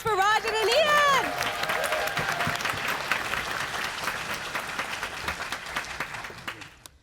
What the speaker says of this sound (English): Big round of applause for Rajan and Ian.